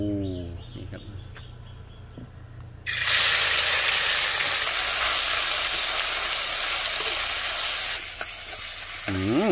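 A loud burst of sizzling begins as pounded Thai curry paste hits a hot wok, then a steady frying hiss continues with faint scraping.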